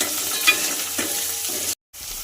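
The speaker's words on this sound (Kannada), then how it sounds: "ಈಗ ಇದೊಂದು ಸ್ವಲ್ಪ ಫ್ರೈ ಆಗಲಿ ಒಂದು ಎರಡು ನಿಮಿಷ ಫ್ರೈ ಆಗಬೇಕು" Crushed ginger and garlic frying in a pan make a steady, close sizzle with a couple of light stirring scrapes, followed by a brief silent gap before the frying resumes.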